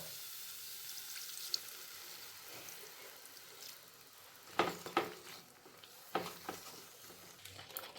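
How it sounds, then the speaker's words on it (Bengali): Coconut milk poured into a pan of sizzling fried masala for hariyali prawn curry, with a steady soft frying hiss and a few sharp louder splashes and sputters midway. "কষানো হয়ে গিয়েছে, এখন আমি এর মধ্যে দিয়ে দিচ্ছি নারকেলের দুধ"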